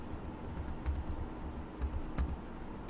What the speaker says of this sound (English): Type in the password